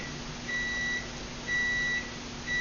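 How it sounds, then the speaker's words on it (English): A kitchen microwave oven sounds three evenly spaced electronic beeps, each about half a second long, clear and moderately loud over a faint background hum. "It's my microwave."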